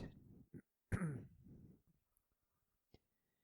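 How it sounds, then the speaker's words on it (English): A single harsh throat-clearing cough close into the microphone, with a short lead-in noise and a faint click after, then near silence. "just definitely coughed into the microphone that time"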